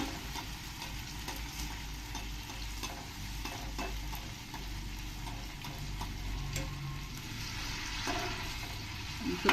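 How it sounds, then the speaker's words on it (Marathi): A homemade potato twister fries in a shallow layer of oil, giving off a steady, close sizzle with faint crackles and occasional soft clinks or stirring taps, with no talking. "आपण हे व्यवस्थित असंच तळून घेऊ"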